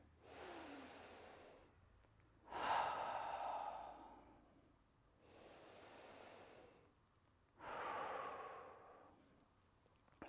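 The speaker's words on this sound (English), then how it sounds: "let's just start breathing with me" Slow, deep breaths in a calm guided session: four long, soft inhale and exhale swells, close and unhurried, with quiet gaps between them and no talking.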